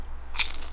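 A single crisp bite into a crunchy hard-shell taco topped with guacamole and green salsa, a sharp close crunch with a brief crackle tail, heard alone in a quiet home kitchen.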